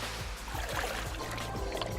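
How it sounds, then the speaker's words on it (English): Pool water splashes in repeated sloshing bursts, roughly every quarter second, over a dense continuous watery wash. "Here we have another pool, sounds of splashing."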